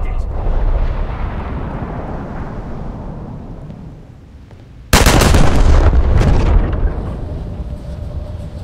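Heavy shells from a 1944 USS Nevada Nevada-class battleship striking a target in War Thunder, a long rolling rumble fading, then a sudden loud sharp impact blast at close range that decays into a deep reverberating roar.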